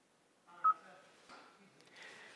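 Kia Stonic navigation touchscreen gives a few soft electronic beeps while a postcode is typed in, faint and close with a quiet gap between presses.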